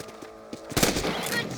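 Gunfire in the video game Red Dead Redemption while shooting rabbits: a sharp, loud report breaks out after a quieter stretch and rings on briefly, with a voice talking in the background.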